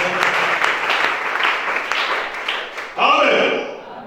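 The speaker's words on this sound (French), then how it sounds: "Acclamons ça." A church congregation applauds during a worship service, a dense sustained patter of clapping from many hands in a reverberant room, with a voice rising over it near the end.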